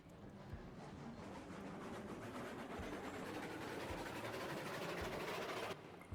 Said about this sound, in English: Really noisy engines, these two mountain climbers though.